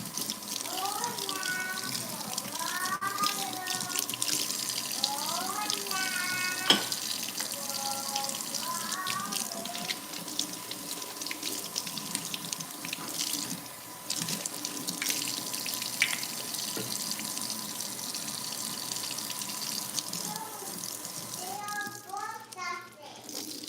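Tap water runs steadily into a sink as food is washed in a home kitchen while breakfast is made for a family, with children's voices and chatter over the flow throughout.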